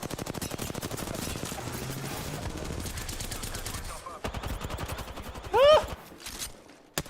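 Rapid automatic gunfire rattles through a squad firefight in a video game, dense bursts running steadily under a player's voice, with a sharp shout and a louder burst near the end.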